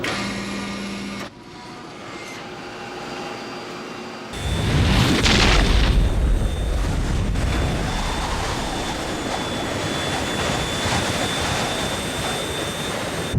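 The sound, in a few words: aircraft cargo door tearing off, explosive decompression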